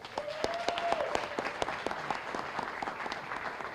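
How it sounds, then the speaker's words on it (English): A crowd applauds steadily, a dense patter of many hands clapping at moderate distance, with a brief voice over the start. "Everybody give him a round of applause."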